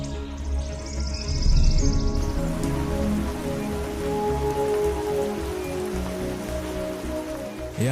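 Heavy rain pours steadily and loudly throughout, a dense wash of drumming on surfaces around a makeshift shelter built from an aircraft, with no talk.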